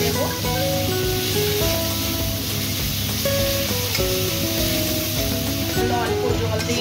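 Spice paste of chili powder, turmeric and ground ginger, cumin and garlic fries in a pan with a splash of water, giving a loud, steady hissing sizzle throughout, with melodic background music layered over it.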